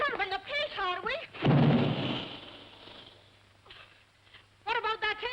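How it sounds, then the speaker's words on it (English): An air gun booms once, a loud, deep blast that rolls out and slowly fades. Voices talk before and after it. "What about that air gun of yours booming all day and night?"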